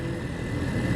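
A motorcycle engine revs high while engine braking on the road, a brief steady low drone heard up close with no voices.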